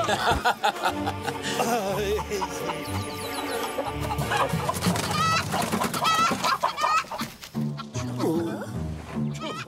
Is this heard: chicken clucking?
yes